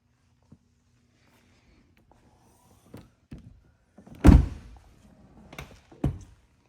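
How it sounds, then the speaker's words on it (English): Doors on a McLaren 720S with soft-close latches shutting: a few quiet taps and clicks build to one firm close thunk near the middle, followed by another softer thunk, in an otherwise quiet space. "Soft shut doors."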